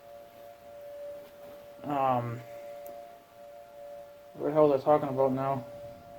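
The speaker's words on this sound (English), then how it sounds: "siren's ringing" A steady, distant siren tone drones faintly throughout while someone speaks in two short bursts.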